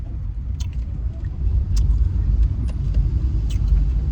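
A car's low road rumble and engine drone fill the cabin steadily while driving home, with a few faint clicks and knocks on top and no talking.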